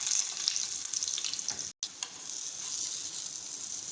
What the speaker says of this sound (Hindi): अब मैं इनको शैलो फ्राई करूँगी।